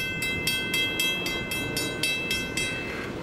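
An eastbound Norfolk Southern freight train with an ex-Conrail locomotive rolls by close, its wheels clicking in a steady repeating rhythm over rail joints under a continuous low rumble, with a faint steady tone above.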